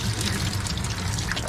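Water draining out of cut PEX pipes during a tub shutoff valve installation, a continuous close trickling and pouring rush with no talking over it.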